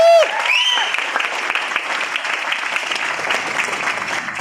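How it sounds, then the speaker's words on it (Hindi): An audience claps at a motivational speech event, a loud burst of applause that opens with a brief sharp tonal sweep, then settles into steady dense clapping that carries on evenly to the end. "जो लोग इसी वजह से तालियां बजा रहे हैं"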